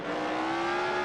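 Supercharged Camaro-style car engine in the BeamNG driving game holds a steady high rev, a loud sustained whine with a strong droning tone throughout, no talk.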